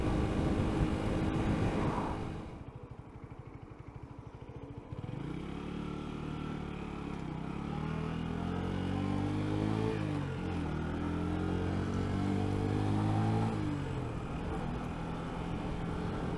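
A Chinese-made motorbike on a ride around exploring roads, its engine droning steadily with rising and falling revs and shifting pitch, loud and close with wind noise, after a brief lull near the start.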